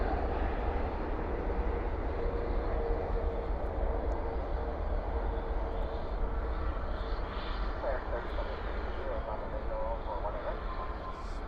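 An Airbus A321neo arriving from LA lands at night at DFW airport with spoilers up and thrust reversers deployed, a steady loud broadband engine roar with rumbling low end holding for the whole stretch, a voice talking faintly over it.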